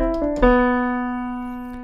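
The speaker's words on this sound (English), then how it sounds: "if I just play through that melody and I end on the 4th note instead of the 5th note, it sounds like this" The Scriptnotes theme melody is played as a short run of quick notes that ends on the fourth note, which rings out long and clear and decays alone.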